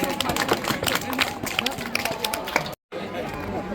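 An audience at an award ceremony claps steadily in a dense, fast patter of many hands filling the room, with crowd murmur underneath, before a brief cut and a quieter tail.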